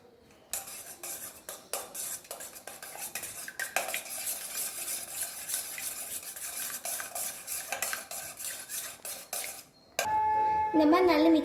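Two cracked eggs whisked in a bowl for kids' French toast, with fast, steady clinking of utensil on the bowl for about ten seconds, followed by a brief sound of a different kind.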